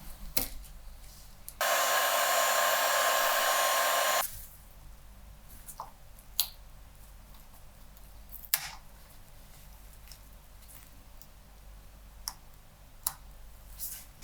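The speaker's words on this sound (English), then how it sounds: "using some more heat to soften the adhesive, we can remove the small daughter board" A heat gun softens the adhesive inside a OnePlus 5T phone with a steady loud blowing whoosh lasting a couple of seconds. Sparse sharp clicks and taps from handling follow in otherwise quiet surroundings.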